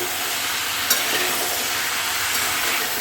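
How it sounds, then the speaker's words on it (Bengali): Steady, close sizzling of spices frying in a hot pan, with a brief scrape of stirring near the start. "এবার এটাকে আমি কষাবো একটু ভাজা ভাজা করবো"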